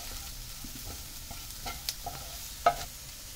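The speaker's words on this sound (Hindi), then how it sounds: "बस हल्का सा हमको इसको भूनना है चारों तरफ से हटाते हुए" Spices roasting in a pan while being stirred, a faint soft sizzle with occasional light scrapes and a couple of sharp clicks of a utensil against the pan, fairly quiet overall.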